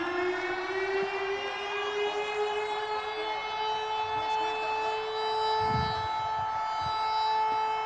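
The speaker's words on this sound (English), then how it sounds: "Now Connor's sirens are gonna come on." A steady stadium siren wails at a football game in Jacksonville, a sustained tone that holds one pitch for the whole stretch, loud and continuous with faint low crowd rumble beneath.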